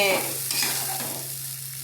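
Curry stirred in a pan, a steady frying sizzle with scraping spoon strokes close by and a low hum underneath, no talking.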